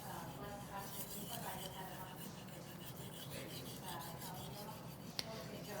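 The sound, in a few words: knife sharpening strokes with pressure on trailing stroke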